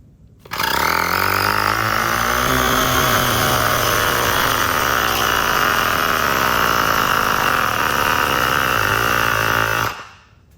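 Fanttik X9 Pro cordless tire inflator pumping up a motorcycle tire, a loud, steady, buzzing motor drone that starts abruptly, runs evenly for about nine seconds, and then stops.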